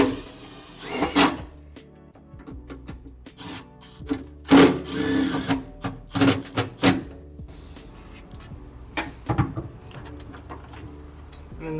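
A power drill bores new mounting holes in the engine bay of a barn-find Ford Mustang, heard as several short, separate whirring bursts with quiet gaps between them.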